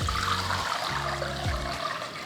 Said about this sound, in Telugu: వీటిని శుభ్రంగా కడిగిన తర్వాత నీళ్లు వెంపేయాలి